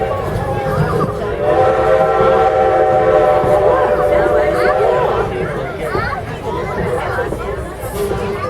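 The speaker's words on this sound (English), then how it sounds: "Blow our whistle for Carpenter's Crossing." A heritage steam train on the Strasburg Railroad blows its whistle for a road crossing, a loud sustained tone of several seconds amid rumbling rail noise and passenger chatter.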